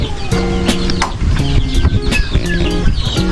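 Pet chickens cluck and murmur close up inside their coop, a busy overlapping chorus of short calls with a few sharper squawks.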